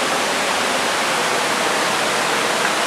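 A waterfall on a mountain trail in the Mt. Cayabu and Mt. Maynoba area roars as a steady, broad, loud rush of falling water with no break and no voices.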